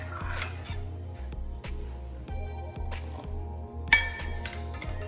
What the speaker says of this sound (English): Just add 1/4 of a cup of the hot milk into the egg yolk, just a bit at a time, and then whisk it up.